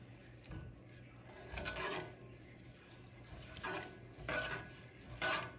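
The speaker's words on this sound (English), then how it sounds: "Then I will stir that really well." Salt being stirred into Puerto Rican rice with pigeon peas in a pot, quiet scraping and rasping strokes of the spoon against the pot coming in several separate bursts, close up and faint.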